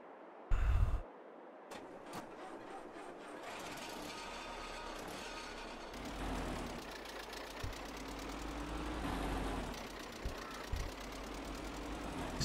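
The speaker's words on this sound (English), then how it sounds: "Engine sounds absolutely spot on." A tractor engine idles in the Farming Simulator 22 video game, a steady, low mechanical hum with a faint knocking pulse, heard after a brief thump, with soft background noise and no talk.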